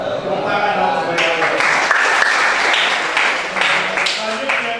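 Clapping from a group of students in a vehicle engineering workshop class, a steady mid-level patter running throughout with voices mixed in.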